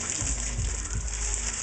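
Pot of water running from a kitchen tap for cooking pasta, a steady, fairly loud gushing stream with low rumbling, no talking.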